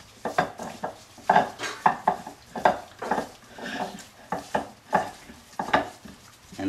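Ingredients mixed with salt in a bowl produce a steady run of rhythmic scraping and clinking, like a spoon working around the bowl, close up and with nobody speaking.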